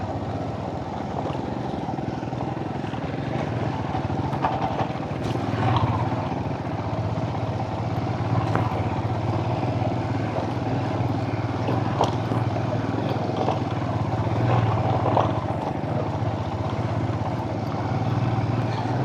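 A low-slung motorcycle rides a rough, off-road mountain track with a steady, droning engine roar that holds level throughout, with faint bumps and rattles layered over it.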